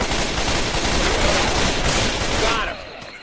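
Rapid, dense gunfire from Left 4 Dead 2 gameplay, a sustained burst of overlapping shots that cuts off abruptly near the end, with players talking over it.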